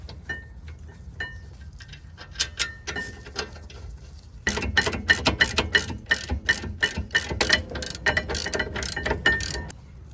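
Rear caliper bracket bolts on a 2012-2016 BMW 328i are tightened with a ratchet. Faint early clicks give way to a steady, close run of crisp metallic pawl clicks.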